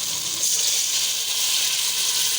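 A cup of water poured into a pot of sautéed tomatoes and spices for turai dal, a loud continuous rushing hiss mixed with sizzling, steady and close, with no voices.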